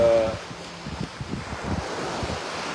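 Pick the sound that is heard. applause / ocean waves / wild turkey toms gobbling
ocean waves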